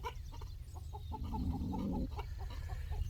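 A chicken gives a short clucking call in a backyard coop area, faint and somewhat distant over a low background rumble, with a brief sustained tone in the middle of the clip.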